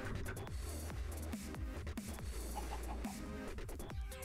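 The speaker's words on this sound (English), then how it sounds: "Get all our chickens! Look at all the dead chickens all around." Chickens cluck in Minecraft, with short repeated game-style clucks over a steady droning background that stays constant throughout.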